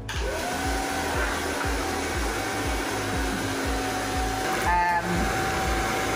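A hair dryer blows loudly and continuously, its motor whine steady, with a brief click-like change near the end as the setting shifts.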